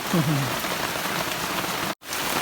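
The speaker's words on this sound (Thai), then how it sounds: "เสียงฝนดังหน่อยนะ" Steady rain pours down on an outdoor roadside cooking spot, a dense constant hiss that cuts out for a split second near the end, with a faint low hum briefly underneath at the start.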